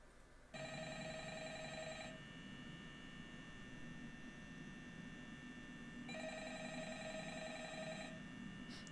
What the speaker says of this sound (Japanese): 電話鳴ってんな。